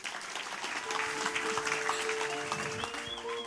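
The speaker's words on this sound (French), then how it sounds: "Et je vous demande d'applaudir sous un tonnerre d'applaudissements Annie Roisé." Dense, sustained applause fills the air at a closing political rally at Kuendu Beach in Nouméa, a steady wash of many hands clapping with a few cheers and whistles on top.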